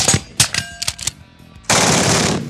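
Rapid suppressed gunfire at an outdoor shooting range using a Salvo suppressor, several sharp bursts close by followed by a loud sustained roar of shots.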